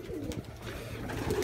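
A pigeon coos steadily inside a dovecote, a low murmuring call that carries on throughout at close range, with soft rustling around it.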